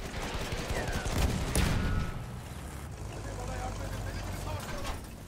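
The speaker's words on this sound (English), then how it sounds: "That's a anti tank guy shooting at us." Gunfire from an anti-tank soldier in the video game Battlefield 1, heard as heavy blasts and rumbling booms with a loud burst early on, then a lower sustained roar, with voices talking over it.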